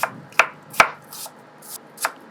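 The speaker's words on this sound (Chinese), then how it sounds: "首先，我们切掉马蹄的结尾， 再将它去皮， 然后切片" Peeled water chestnuts being sliced with a knife on a board: a few sharp, close cuts at irregular intervals, with soft scraping between them, and no voices.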